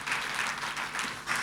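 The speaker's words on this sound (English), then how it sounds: "That, to me, requires a round of applause." Audience applause for former cricketer Jonty Rhodes at a talk event, a brief, even burst of many hands clapping in a hall, moderately loud and unbroken with no voices over it.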